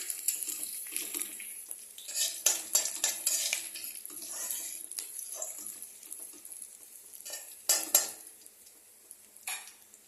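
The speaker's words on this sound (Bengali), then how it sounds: "রসুন কুচিটা দিয়ে এটাকে একটু ভাজা করে নেব।" Chopped garlic frying in a pan, a bright close sizzle interrupted by scraping and clinking of a utensil stirring against metal, with bursts of louder hiss as the pieces are moved around.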